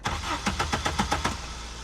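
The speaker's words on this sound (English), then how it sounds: "we're gonna try our push button and cycle the engine" A car engine cranks over on a push-button starter after the battery has been reconnected, a steady rapid rhythm of starter pulses churning loud and close without catching, with no talk.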